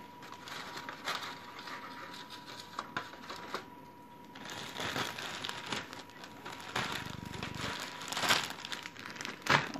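A plastic pack crinkles and rustles as it is pushed into a Ziploc bag, with irregular close crackles and handling rattles that swell near the end, fairly quiet and with no talk.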